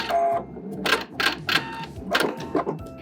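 A sewing machine backstitches along a seam of a dress being let out, giving short, close mechanical bursts of rapid whirring and clatter that start and stop several times.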